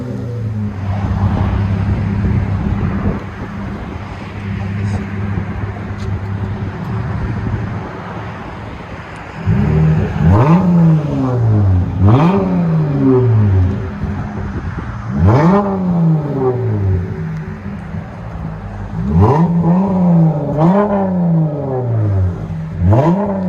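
A 2013 Chrysler 300 V6 fitted with a Flowmaster Super 10 exhaust and rear delete idles loudly, then gets revved three or four times, each rise sharp and deep before dropping back, close up and with no voices.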